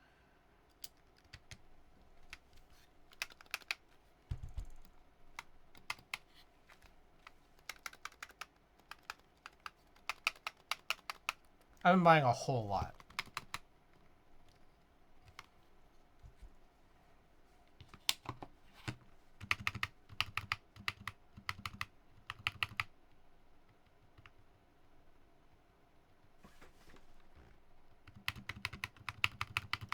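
A computer keyboard is typed on in scattered bursts of crisp, close keystrokes with pauses between runs, while a voice briefly speaks partway through.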